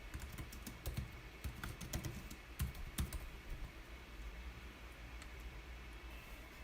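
Someone types a command on a computer keyboard to install NumPy, with quiet, scattered keystrokes in uneven bursts over a faint hiss before the tapping stops.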